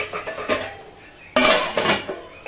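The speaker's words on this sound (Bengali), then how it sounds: "পেঁয়াজ সঙ্গে ভালো করে নেড়ে আবার বেশি কিছুক্ষণের জন্য আমি এটাকে ঢাকা দিয়ে রেখে দেব" Metal clatter of a pot and utensils while a pot of papaya chicken curry is stirred and covered, with several sharp clanks and scraping bursts, the loudest a lid-like clang midway.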